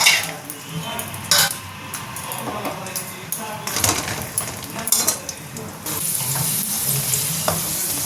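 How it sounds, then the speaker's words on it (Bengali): Cashews and raisins fry in oil in a kadai with a continuous crackling sizzle, mixed with metallic clinks and scrapes of a utensil against the pan. "এবার কাজু কিশমিশগুলো ভেজে নেব"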